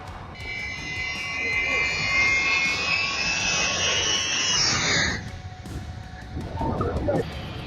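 Boeing 747 jet engines roar steadily with a high whine while strong gusting wind rushes across the microphone. The roar fades after about five seconds and leaves wind buffeting and a fainter engine hum.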